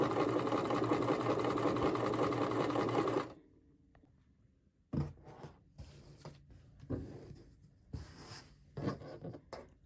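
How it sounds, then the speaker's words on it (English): A sewing machine runs a zigzag stitch along fabric at the neckline of a blouse, a loud, steady whir lasting several seconds, followed by quieter scattered handling sounds and rustling of cloth. "do a zigzag stitch around the perimeter of the front of the neck"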